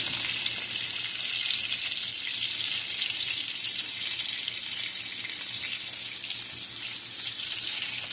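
Frozen fries frying in a pot of hot oil: a loud, continuous bright sizzle and crackle that holds steady throughout, with no talking.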